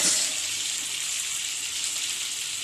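Prawns and pumpkin sizzle in hot oil in a pan for a Bengali curry, a loud bright continuous frying hiss that flares at the start as the prawns go in, then settles to a steady crackle.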